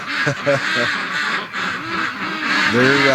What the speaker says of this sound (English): Look at the ducks. They're all at this corner.